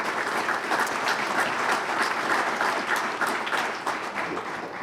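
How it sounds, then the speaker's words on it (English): An audience at a college presidents' breakfast applauds alumni board members, producing a full, sustained wash of many hands clapping in a large room, steady and fairly loud before tapering slightly at the end. "give them a round of applause."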